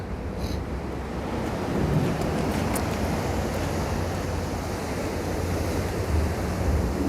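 Rough East Sea waves roll and break steadily against a tetrapod-lined shore at Mulchi Harbor in Yangyang, South Korea, in a continuous wash of surf, mixed with wind buffeting the microphone, with no voices.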